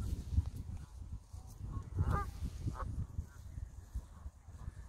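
Goose-like birds honk in a few short, harsh calls, with a louder burst near the middle, over a steady low outdoor rumble on an autumn day in Germany.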